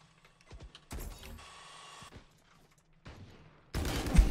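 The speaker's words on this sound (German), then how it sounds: "Die Waffe braucht auch so lange, bis sie schießt." Machine gun fire in a competitive tactical shooter match, heard as a few scattered mechanical clicks and short bursts, a sustained spray in the middle, then a loud close burst at the end, no talk.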